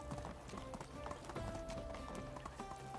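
Hooves clip-clop quickly as a horse gallops in the medieval village-building game Medieval Dynasty, a rapid, steady rhythm of close, fairly loud footfalls with a voice speaking over it.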